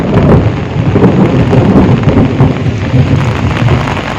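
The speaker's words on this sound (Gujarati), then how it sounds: "માર્યો ને મિત્રો કડાકો જોરદાર." A loud thunder clap booms during steady rain in a village, with a heavy rumble that fills the whole moment over the constant hiss of falling rain.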